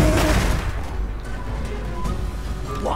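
Warp lightning cannon fire in a Skaven battle game, a dense crackling barrage of blasts and booms layered over loud continuous battle noise, with brief voices underneath.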